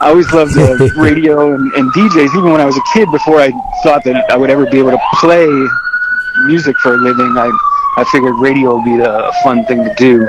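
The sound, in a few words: sirens passing outside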